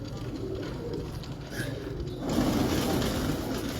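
Breeder pigeons coo softly nearby in a quiet loft, the low murmuring calls faint and steady throughout.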